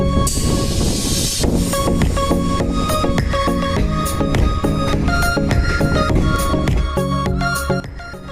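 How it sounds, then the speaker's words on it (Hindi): The Teesta Torsa Express pulls out of New Farakka Junction, heard as loud, continuous rolling rail noise with rhythmic wheel clatter, hissing and tonal squeals close by, fading a little at the end. "न्यू फरक्का जंक्शन से गाड़ी खुल चुकी है।"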